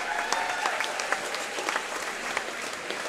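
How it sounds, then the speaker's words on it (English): Crowd applause at a youth basketball championship event, steady clapping with scattered sharp individual claps standing out, moderate in level and continuing throughout without speech. "Can you break your round of applause?"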